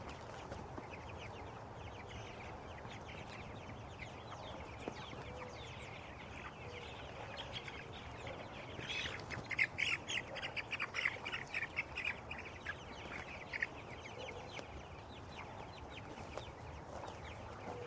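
Young meat chickens clucking and squawking steadily, with a busier burst of squawks partway through, heard at moderate distance over a low background hum.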